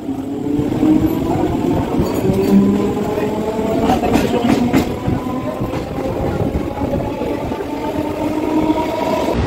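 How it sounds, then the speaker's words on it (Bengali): Steady rumble and clatter of a local train travelling from Halisahar towards Sealdah, heard from inside the carriage as a continuous loud drone with rhythmic rail knocks and occasional squeaks. "আমরা বসে পড়েছি ট্রেনে, চলে এসেছি।"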